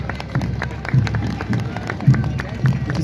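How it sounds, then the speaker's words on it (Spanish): A crowd at a school parade applauds with steady, moderate clapping, heard under an announcer's voice and general street noise. "Fuerte, fuerte los aplausos."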